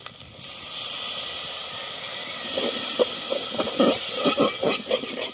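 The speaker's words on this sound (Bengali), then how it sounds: "আদাটা ভাজা হয়ে গেলে জল দিয়ে দেবেন" Water poured into ginger paste frying in a pan for Bengali aloo dum gives a continuous steam-like sizzling hiss that swells partway through, with crackling, spluttering bursts in the second half.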